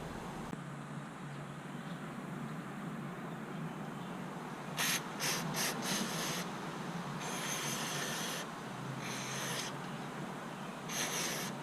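A Harley touring rear brake caliper with its pistons removed is scrubbed clean, a steady rubbing hiss broken by several short bursts of brighter spraying or brushing noise.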